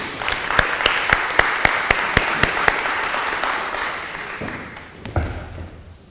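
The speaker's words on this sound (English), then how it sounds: "can we have a warm round of applause for Tim?" A crowd claps warmly with a few sharp, evenly spaced claps standing out, then the applause tapers off into a brief pause.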